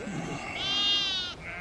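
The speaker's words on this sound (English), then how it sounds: "These are young lambs." A young lamb gives a single clear, wavering bleat close by in a flock of sheep with their mothers, against quiet outdoor background noise.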